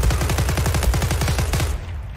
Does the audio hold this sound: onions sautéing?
no